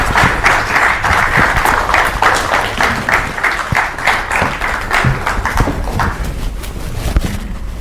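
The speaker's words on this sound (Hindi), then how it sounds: "जोरदार तालियों के साथ स्वागत कीजिए पंडित" A studio audience gives a loud, rhythmic round of applause to welcome Pandit Pradeep Mishra for an interview, with steady, pulsing claps that continue for several seconds and no talk over them.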